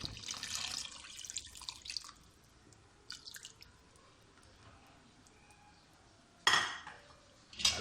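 Water splashes into a pot of balti gosht in two or three short pours, close and fairly loud, separated by quieter stretches with faint kitchen clatter.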